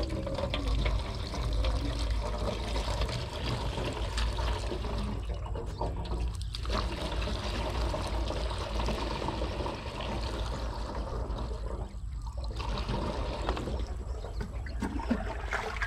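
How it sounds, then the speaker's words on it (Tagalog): Water pours steadily into a container to mix a farm spray, a continuous loud splashing and gurgling rush that runs for the whole stretch with brief dips in flow. "So maglalagay tayo ng konting tubig."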